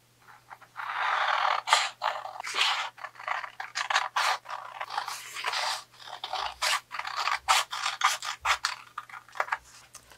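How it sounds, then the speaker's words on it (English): Scissors snip and scrape through a printed sublimation design in a rapid, uneven run of close, crisp cuts, with no talking. "The first thing I'm going to do is cut out this design, and I'm just going to draw a circle around it."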